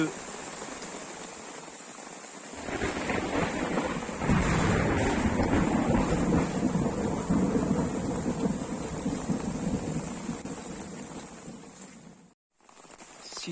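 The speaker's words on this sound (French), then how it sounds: "Il est 1h du matin et il pleut." Thunderstorm with heavy rain at 1 a.m. on a desert island off Panama, a broad roaring rumble that swells after a couple of seconds, holds loud for several seconds with wind buffeting, then briefly cuts out near the end.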